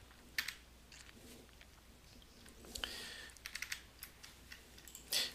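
Render command keyed in on a computer keyboard: quiet, scattered clicks and short bursts of keystrokes, close by and faint, with no talking.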